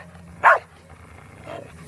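A dog slobbering over a tire gives one short, loud huffing bark-like burst, followed by a quieter panting breath about a second later, with no talk.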